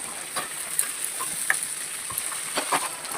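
Spiced egg dal masala sautéing in oil in a pan with turmeric and chopped coriander, a soft steady sizzle broken by a few light stirring clicks, close and fairly quiet, with no voices.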